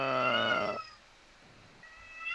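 A cat lets out one loud, drawn-out meow close by, then falls quiet before starting a softer second cry at the end.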